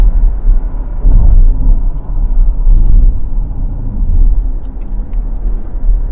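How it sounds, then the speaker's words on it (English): Range Rover L322 accelerating and shifting gears, heard as a deep, steady engine rumble from inside the cabin with a slight surge in level partway through, and no talking. "Changes gear smooth, it accelerates beautifully."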